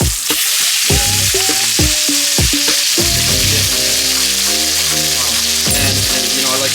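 Steak sizzles in a frying pan with a dense, loud, constant crackle, while music with plucked, rhythmic tones plays over it.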